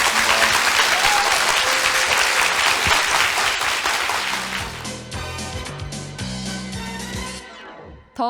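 A studio audience applauds at the close of an economics talk concert, loud dense clapping that holds steady and then thins out and stops near the end.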